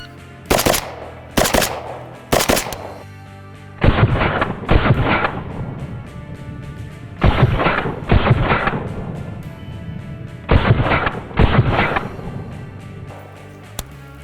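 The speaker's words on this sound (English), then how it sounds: "I'm gonna fire it double tap, then I'm gonna use controlled pairs" Gunfire at multiple targets comes as sharp, loud reports: three single shots, then paired quick double taps repeated in several groups, each followed by brief echo.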